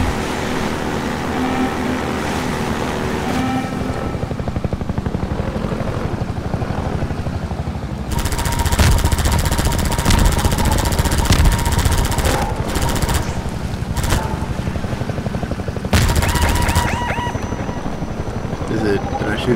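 Steady helicopter rotor drone fills a Half-Life 2 firefight, with bursts of gunfire aimed at the chopper cutting in loudly several times, while someone talks over the action.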